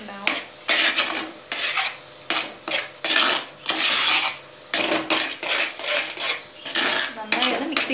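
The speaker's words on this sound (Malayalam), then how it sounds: "എന്നിട്ട് നന്നായി മിക്സ് ചെയ്യുക." A spoon scrapes and clanks around a pot while Pathare-style mutton curry masala is stirred, a dense run of metallic scraping strokes with a faint sizzle, close and steady, with no voices.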